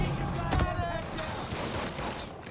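Tommy gun fire in Mafia 3, a burst of rapid automatic shots at the start followed by echoing reverberation, moderately loud against game background noise and voices.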